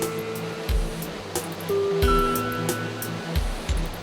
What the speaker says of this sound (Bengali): রক গার্ডেনের মূল আকর্ষণ জলপ্রপাত কৃত্রিমতার বালাই নেই কোনো পুরোটাই প্রাকৃতিক